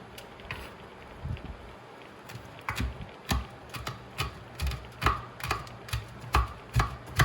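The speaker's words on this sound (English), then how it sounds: "So I have some fresh thyme. I'm going to just rough chop right here." Knife rough-chopping fresh thyme on a cutting board, a close series of crisp rhythmic thuds that grows steadier and louder partway through.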